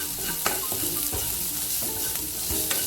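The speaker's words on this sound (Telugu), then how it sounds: "ఫస్ట్ ఈ మసాలా అంతా చక్కగా ఫ్రై చేసుకుందాం. లో ఫ్లేమ్లో పెట్టేసుకోండి." Ground masala made with raw ingredients frying in oil on a low flame for a okra dish, a close, continuous sizzle broken by repeated scraping and clattering stirs of a spoon against the pan.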